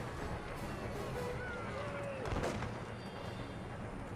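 Faint musket volleys and artillery fire from an American Revolution battle game, with a low, steady rumble of battle noise and one slightly stronger boom midway.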